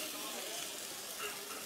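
Garlic hits a hot pan in a Vietnamese kitchen and sizzles with a soft, even hiss. The frying noise is continuous and fairly quiet, running under light talk.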